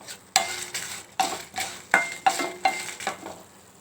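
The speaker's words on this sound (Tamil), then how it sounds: "எல்லாத்தையுமே ஒன்றாவே போட்டு வறுக்கலாம்." Pepper and chili powder are dry-roasted together in a pan, a utensil scraping and tapping the metal in a steady rhythm of about eight distinct strokes, close and clear.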